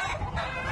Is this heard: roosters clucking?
yes